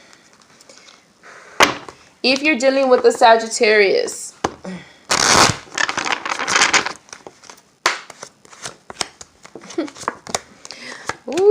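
Tarot cards riffled and shuffled close up in short crisp bursts with sharp snaps and rustles, broken by someone speaking.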